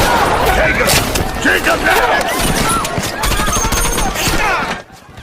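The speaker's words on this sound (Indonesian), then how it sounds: "Kontak senjata pun kembali terjadi" A sniper-film firefight scene with dense gunfire, rapid loud bursts and cracks overlapping continuously, mixed with horse sounds and voices before it drops away at the end.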